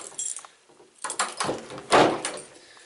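A door swings shut indoors with a rattle of hardware and a firm thud near the end, close by and fairly loud, with no talk over it.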